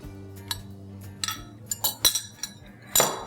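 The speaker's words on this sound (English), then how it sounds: "Mix, mix, mix, and just in one quick go, add it to the dry ingredients." Oil being mixed into waffle batter ingredients in a bowl gives a series of light, irregular clinks and taps of a utensil against the bowl over a low steady hum.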